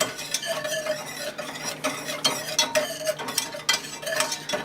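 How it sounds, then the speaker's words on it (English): A whisk beats dry ingredients into melted chocolate in a pot for homemade chocolate ice cream, making rapid rhythmic scraping and tapping strokes against the metal, close and steady, with no talking. "gradually whisk dry ingredients into the melted chocolate mixture"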